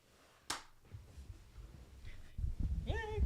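A single sharp hand clap, made to sync a recording, cracks out once near the start. Quiet background noise follows, and a voice speaks near the end.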